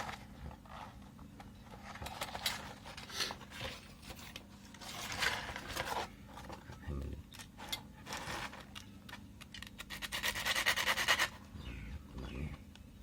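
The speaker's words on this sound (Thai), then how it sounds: "จะต้องเอาไป ขัดกระดาษทราย" Repeated scratchy rubbing strokes of sandpaper smoothing a cut, rough edge, in irregular bursts with short pauses, close and fairly quiet.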